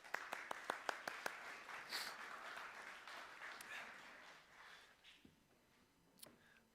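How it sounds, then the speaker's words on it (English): A small audience applauds a speaker at a talk about mental health and prison, starting with a few sharp individual claps before a faint, thin wash of clapping that fades toward the end. "So let's give Jonathan a round of applause."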